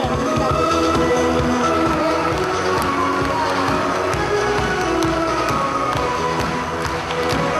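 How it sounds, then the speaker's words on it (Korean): A standing ovation at a tea culture education event: a crowd applauds and cheers loudly and continuously, with busy, overlapping claps and a few voices rising over the room. "우리의 영원한 우리 허재남 회장님을 위하여 정말 여러분들 다 일어나서 정말 아주 한호의 박수를"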